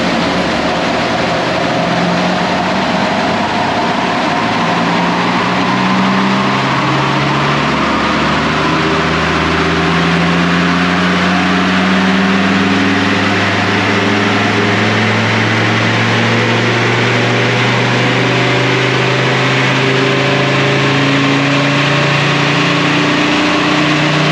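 A Land Rover Defender Td5 diesel engine, tuned to about 231 horsepower, runs on a dyno with a loud, steady drone whose pitch climbs slowly as revs build over a long pull.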